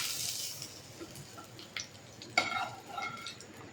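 An egg fries in a mix of ghee and oil with a soft, steady sizzle and quiet crackle, joined by a few light clinks and scrapes of a utensil against the pan, all fairly faint and close.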